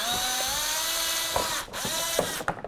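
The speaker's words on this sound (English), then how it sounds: "I just take a drill bit that's going to fit right in there, and I'm just going to drill right in there" Power drill whirring steadily up close, then sputtering and catching in bursts as the bit bites through and breaks free, drilling out a plastic rivet on a 2002-2005 Ford Explorer license plate bracket.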